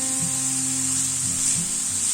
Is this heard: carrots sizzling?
yes